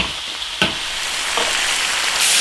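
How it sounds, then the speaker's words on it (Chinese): Yak spare ribs with soy sauce stir-fried in a hot iron wok give a constant bubbling sizzle, with two or three distinct spatula strikes and scrapes against the metal. "来点生抽，把牛排骨炒香就行了。"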